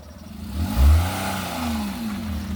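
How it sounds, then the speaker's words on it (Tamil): A car engine revs up during a driving lesson, rising into a loud surge near the start, then settling into a steady mid-pitched hum with a faint whir. "ரேஸ் அந்த ரேஸ் சவுண்டு வருது பாருங்கள்."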